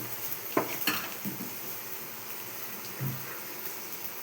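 Grated ginger being stirred in a frying pan for a chicken gravy curry: several sharp spoon clinks and scrapes against the pan over a faint, continuous sizzle, heard up close.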